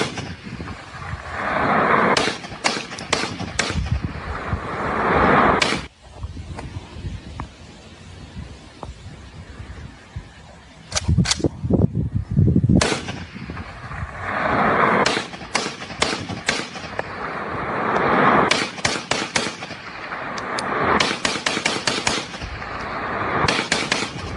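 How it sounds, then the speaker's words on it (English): Gunshots fired into the night sky at a drone in Pennsylvania ring out in loud, sharp bursts, some rapid clusters and some single cracks, separated by quieter stretches of outdoor ambience. "Video of someone now shooting a drone."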